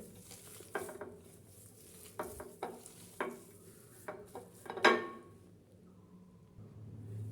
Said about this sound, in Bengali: খুব ভালো করে এগুলো একসঙ্গে মাখিয়ে নিতে হবে